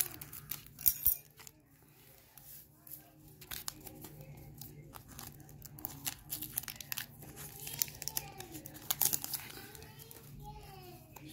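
Plastic wrapper on a Pokémon tin is cut open, giving crinkling, tearing and snipping sounds up close while someone talks over it.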